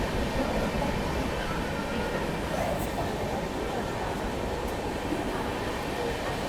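A second AC coach of the Marathwada Sampark Kranti Express rolls past Rani Kamlapati station, a dense, constant rumble of running wheels and carriage noise heard from inside the train.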